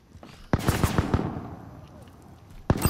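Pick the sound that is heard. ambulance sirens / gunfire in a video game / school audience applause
gunfire in a video game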